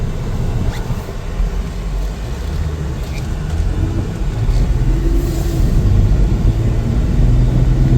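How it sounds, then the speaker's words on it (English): A 2016 Ford F150 XL two-wheel-drive regular cab long bed pickup on a test drive, with a steady low engine rumble and road noise throughout, swelling slightly louder toward the end. "We're going to take it for a little test drive in a moment."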